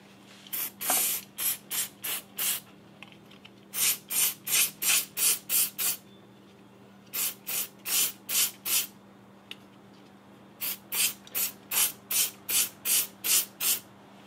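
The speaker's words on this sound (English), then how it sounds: "I'm just using some non-chlorinated brake cleaner, and what I'm going to do is just pop this sucker off, and then just spray down that shim" Non-chlorinated brake cleaner sprays onto a Yamaha XT250 front brake pad shim in close, loud bursts of hissing, about twenty short blasts in quick rhythmic groups separated by brief pauses over a low steady hum.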